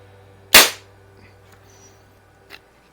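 Daisy model 880 .177 multi-pump pellet rifle firing a wadcutter pellet, a single sharp, close crack with a short fading tail, then a faint small knock about two seconds later in a quiet setting.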